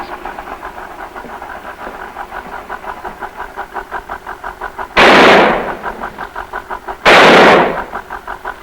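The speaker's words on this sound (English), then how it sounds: "I'd like to have you take this gun and shoot the aces out for me, please." A gun fires two loud, separate shots about two seconds apart at playing cards mounted on a disc, each a sharp blast with a decaying tail over a steady, rhythmic mechanical pulsing hum.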